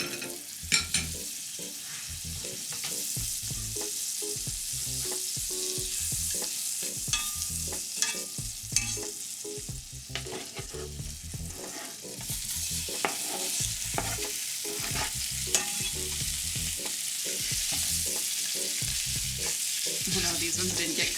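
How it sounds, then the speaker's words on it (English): Sausage browns in butter with crushed red pepper in a stainless steel skillet, giving a continuous close sizzle with frequent scraping and stirring clatter throughout, no voices. "we're just gonna add our sausage and brown it with a little bit of butter and crushed red pepper"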